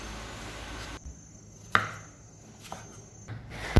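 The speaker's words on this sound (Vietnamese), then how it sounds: "Tỏi này mình sẽ băm nhỏ ra nha." A knife strikes a cutting board a few times, mincing garlic for salt-and-pepper fried tofu. The chops are sparse and sharp, close and clear over a quiet room hum, with no talking.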